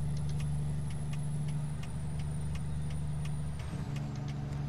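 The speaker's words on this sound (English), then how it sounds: "And the jake brake." Truck jake brake in American Truck Simulator: a steady low engine drone with repeated chattering pulses, then a shift in pitch as the brake engages and the engine note drops, mild and continuous.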